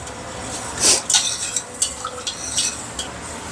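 Spoon stirring spiced pani puri water flavoured with chat masala and salt, a few light clinks and swishes against the vessel, close and moderately quiet with no talk.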